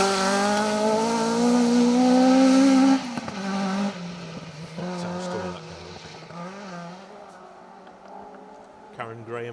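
Ford Escort RS 1600 race car competing in class C5 of a forest rally, its engine holding a loud steady high note for about three seconds before dropping away, then weaker engine passes with a commentator talking over it.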